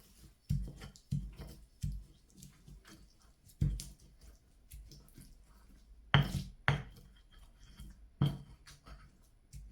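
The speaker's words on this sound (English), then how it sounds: "You're going to just grind it all up until you essentially get a fairly coarse mix." Chilies and salt being pounded into a coarse sambal oelek paste, heard as irregular knocking thuds of pestle against mortar, close and moderately loud, with scraping between strikes and no talking.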